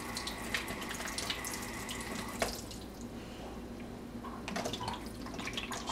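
Tap water running into a sink while soap is rinsed out of a hamster's water bottle, with steady splashing, gurgling and drips, fairly faint and close, with no talk.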